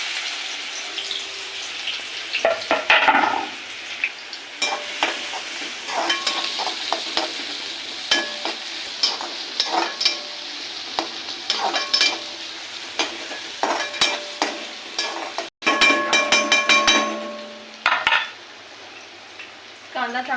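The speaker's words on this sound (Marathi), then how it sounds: "कांदा चांगला आपल्याला ब्राऊन करायचा आहे, मस्त गोल्डन कलर येईपर्यंत मस्त फ्राय करून घ्यायचं तेलामध्ये" Sliced onion frying in oil in a pan, a steady sizzle broken by repeated clicks and scrapes of stirring, with a brief louder burst of crackling near the end and no talk.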